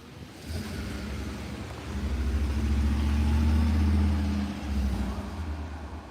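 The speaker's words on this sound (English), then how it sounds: "Good old FedEx truck." A FedEx delivery truck passes with a low engine rumble that swells to a peak and then fades again, a steady mid-distance roar with no voices.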